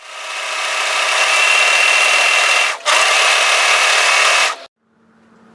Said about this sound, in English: I'm just going to serge tidy the lower edge